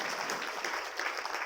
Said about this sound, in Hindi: अच्छा, ताली बजाएंगे।